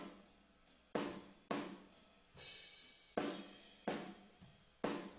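Sparse drum hits ring out in a roomy, reverberant space, each strike decaying slowly into a washy ambience, about six hits spread unevenly.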